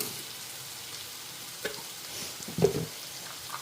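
Ingredients sautéing in a pan with salt, a faint soft sizzle with a few brief louder scraping stirs toward the end.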